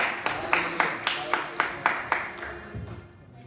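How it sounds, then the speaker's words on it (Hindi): A church congregation claps for the choir with about a dozen loud rhythmic claps at a steady beat, close and reverberant, which then fade out. "क्वायर के लिए जोरदार तालियां।"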